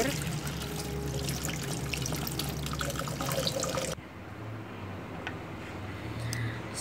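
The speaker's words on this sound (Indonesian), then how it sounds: "Saya cuci dengan air yang mengalir." Running tap water splashes steadily over a yellow pumpkin being washed at a sink, loud and continuous at first, then a little softer and more open after about four seconds, with no talking.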